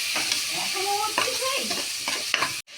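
Red chili, cumin, coriander and turmeric sauté in a pan for chicken tehari, a steady sizzle with repeated scraping strokes of a spatula and a few hissing bursts, cutting off abruptly at the end.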